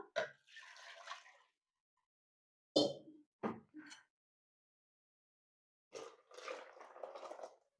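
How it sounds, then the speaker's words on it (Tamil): Water splashes and pours into a container in a few short bursts separated by silence, close and moderately loud. "கொஞ்சம் தண்ணி விட்டு கழுவி ஊற்றிடலாம்"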